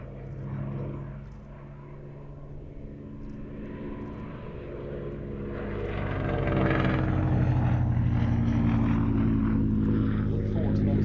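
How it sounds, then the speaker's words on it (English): A 1930s Hawker Fury 1 biplane flies past at an airshow, its piston engine droning and swelling louder toward the end as a commentator talks over it. "The Historic Aircraft Collection's Fury 1, completing what was for a time a quintet of Hawker biplanes of the 1930s it was possible to see."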